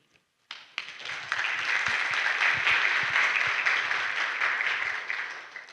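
Audience applause at a seminar panel close fills the room, starting abruptly after a brief silence and holding steady as a dense wash of many hands clapping, with a few louder individual claps near the front.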